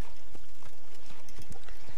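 Horse hooves clip-clop in a steady, moderately loud rhythm as a rider moves slowly through Assassin's Creed, with no talk over it.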